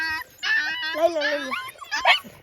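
A puppy whimpers and gives high yips, a long wavering whine running through the middle, with people talking around it close by.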